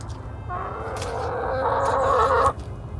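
Backyard hens, two older and four younger, cluck close by in a sustained, rising call that cuts off abruptly, over a low outdoor background with no talking.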